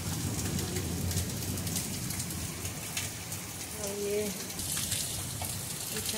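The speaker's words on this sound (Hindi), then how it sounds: "बहुत तेज़ बारिश अचानक आई है" Heavy rain pours onto a rooftop terrace at night after a windstorm, a dense, steady roar of drops spattering on surfaces throughout. A voice speaks briefly under the downpour.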